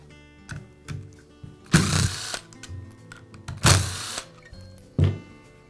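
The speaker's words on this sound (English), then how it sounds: "I'll begin by removing the top cap from the sander. It's secured with 3 screws." Screws being removed from the top cap of a DeWalt sander during a power cord repair, a few close, separate mechanical thunks and clicks with short scraping bursts and quiet gaps between them.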